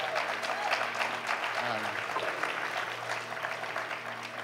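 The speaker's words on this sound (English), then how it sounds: "Let's give a round of applause for him." Audience applause at a tabla festival concert, a steady wash of clapping throughout with a faint sustained drone tone beneath and brief murmured voices partway through.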